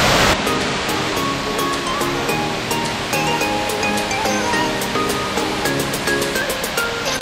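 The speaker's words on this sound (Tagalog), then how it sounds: "So ito ang waterfalls." Tinago Falls in Iligan City, Lanao del Norte, pours in a steady, loud broadband roar of rushing water, continuous and close with no breaks. Some faint tonal sounds sit in the background, and there is no talk.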